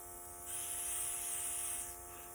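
A makeup airbrush sprays in one steady, faint hiss that swells for about a second and a half over a constant low electric hum, with no talking.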